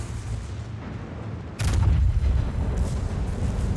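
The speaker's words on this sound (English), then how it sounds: "why did that Holland open fire?" Warship guns fire in the World of Warships video game as a heavy boom breaks over a low rumbling background, followed by fainter distant reports.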